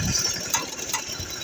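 A tractor engine runs steadily on a farm during field harrowing, a continuous mid-loud rumble and drone with no pauses and no voices.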